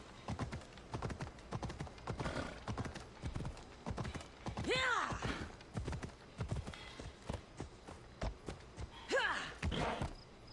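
Horse hooves clip-clop at a steady walking rhythm in Assassin's Creed Odyssey, with a couple of whinnies from the horse and a voice speaking over the hoofbeats.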